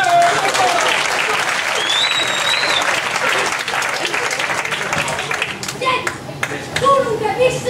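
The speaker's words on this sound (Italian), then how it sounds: "Un applauso per Peppiniello!" Loud, continuous applause from a crowd, dense clapping filling the whole stretch with a few voices and whistles mixed in.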